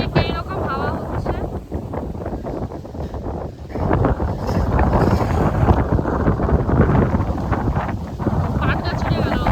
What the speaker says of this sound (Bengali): ঠিক এইরকম হাওয়া হচ্ছে।